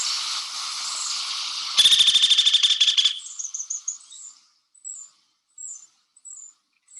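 A crimson-mantled woodpecker in the Andes of Colombia gives a fast rattling burst of sharp notes, then short high chirps repeat at intervals into quiet.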